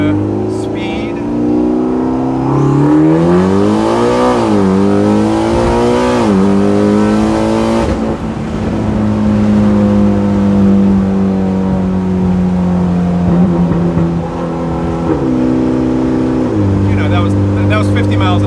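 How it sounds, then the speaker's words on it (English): Mitsubishi Lancer Evolution X, running about 15 psi on wastegate pressure, accelerating up to speed: loud close engine drone climbing in pitch through several gear changes, then a long steady cruise and a further rise, heard under someone talking. "I'm just gonna hop on here and accelerate up to speed"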